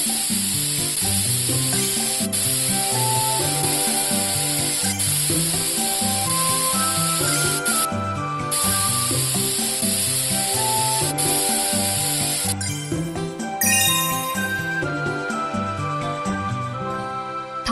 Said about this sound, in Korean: 에어 스프레이로 먼지를 청소해주세요.